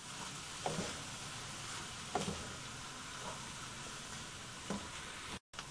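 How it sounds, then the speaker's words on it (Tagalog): Shredded pork fries in a pan, giving a soft steady sizzle broken by a few faint stirring clinks, fairly quiet and close with no talking. "Haluin lang natin."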